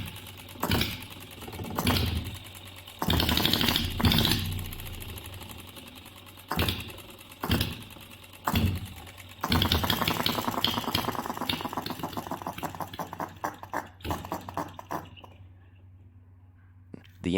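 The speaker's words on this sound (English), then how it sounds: "This is the problem you'd normally encounter, where the engine stops mid-operation." An OKMO B02 engine runs with a rapid mechanical clatter and repeated impact bursts, then winds down and cuts out near the end, leaving near silence.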